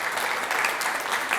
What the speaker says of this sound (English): I think that deserves a round of applause to all of you and every Western Australian.